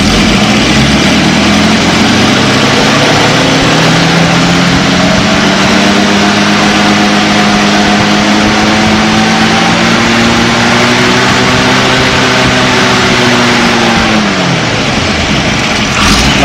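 A 1938 Buick Special engine idles loudly and close by, a steady dense rumble with a faint whine that drifts slightly and dips near the end, no voices.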